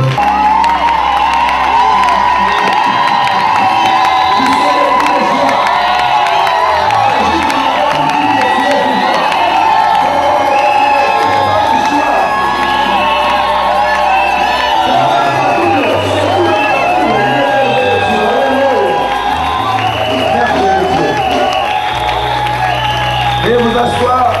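A church congregation cheers and acclaims God, a loud, sustained wash of crowd shouting, whooping and scattered clapping filling the room, with voices raised throughout.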